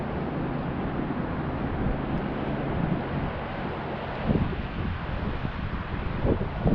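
Strong wind roars across a DJI Mavic Mini drone in flight, a loud, steady broadband rush with gusty swells and no pauses from start to finish.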